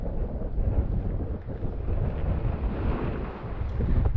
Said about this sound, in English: Tell you what, it's quite windy though.